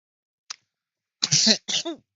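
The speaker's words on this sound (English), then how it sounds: "Oh, excuse me. Coughing already." A short faint burst followed by a sharp, loud cough-like explosion and a second voiced cough, close to the microphone.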